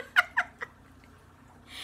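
A pet cat gives a few short, sharp vocal cries close by, followed by near silence and a faint rise of noise at the end.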